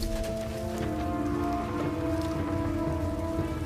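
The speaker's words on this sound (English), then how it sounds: "It's raining." Rain falls steadily inside a cave, a continuous close hiss of drops spattering on surfaces, with a faint low tonal drone running underneath throughout.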